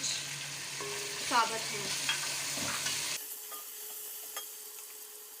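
Tomatoes and green chilies go into hot oil for dal mash, giving a loud sizzle with stirring scrapes that drops to a quieter, steady fry partway through. A voice speaks briefly.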